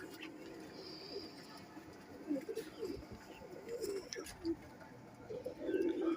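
Kamgar Golden pigeons coo softly in low, repeated murmurs amid a busy loft, with faint bird chatter and someone talking nearby.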